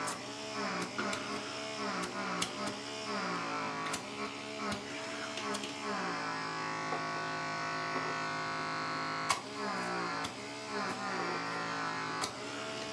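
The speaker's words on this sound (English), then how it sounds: "Ew, that suction sound is so gross." A Silk'n Revit microdermabrasion device runs with a steady motor buzz, broken by repeated sucking pulses and clicks as the tip's suction grabs and releases skin, close and continuous throughout.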